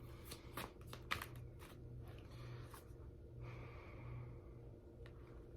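A deck of tarot cards is shuffled close by, quick papery riffles and flicks in short bursts over a quiet low room hum, fading to soft handling.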